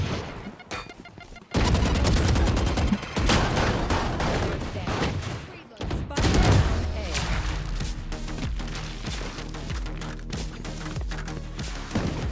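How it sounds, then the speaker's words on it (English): Shotgun fire in Valorant during a match: loud booming blasts and a dense burst of gunfire, with heavy sustained game action and excited voices talking over it. "Shotgun."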